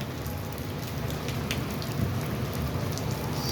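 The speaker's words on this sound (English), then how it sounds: "it's a rainy day all day" Steady rain falls across a New York City neighborhood, a dense, even hiss of drops on surfaces with no break and no voices.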